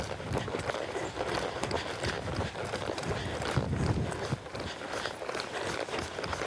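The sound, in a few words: horse hooves on arena ground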